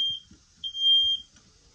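A smoke alarm in a 2013 Shadow Cruiser 314TSB travel trailer, set off by heat, chirps with a thin, high beep, then gives a longer sustained tone, faint and alone in a quiet room.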